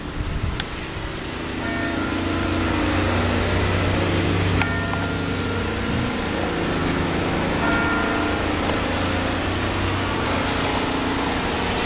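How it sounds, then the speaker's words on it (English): Bells ring at a medical center, faint strikes sounding at a distance under a steady hum of air conditioning and traffic. "Oh, listen. We got bells."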